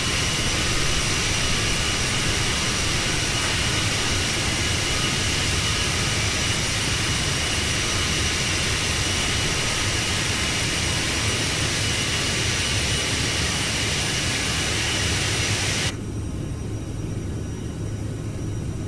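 Loud, steady roar of CRJ jet engines at takeoff power in Microsoft Flight Simulator, a dense continuous rush that holds evenly before the high hiss cuts away abruptly near the end, leaving a lower rumble, with no talking.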